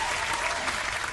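A short burst of crowd cheering and applause plays as a sound effect in the digital board game Dune Imperium, brief and fairly loud.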